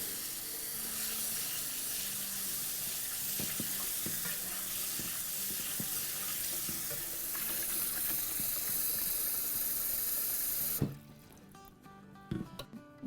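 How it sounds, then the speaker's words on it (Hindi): Water swishes and sloshes over lentils in a cooking pot for about eleven seconds while they are washed, with a continuous splashing wash and occasional clinks, then stops abruptly into near quiet. "चलिए ये हम डाल देते हैं पतीले में, सारी दालें भी डाल देते हैं और अब इसको हम धो लेते हैं।"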